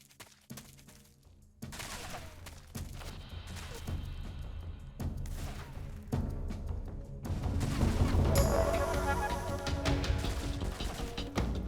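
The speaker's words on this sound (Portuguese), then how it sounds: "Eu tô levando tiro da onde?" Gunfire in the video game Metal Gear Solid, from the Master Collection Vol. 1 on Switch, comes as sharp repeated shots and crashing bursts over game sound that grow denser and louder toward the end.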